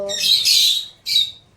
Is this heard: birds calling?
yes